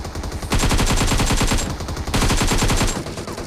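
A PP-Bizon submachine gun fires in PUBG Mobile, two loud sustained bursts of rapid automatic shots with a brief pause between, close and dominant.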